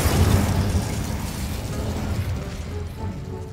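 Incendio fire spell cast in Hogwarts Legacy, a loud low rumbling burst of flame that starts strong and gradually thins out over a few seconds, with no talking.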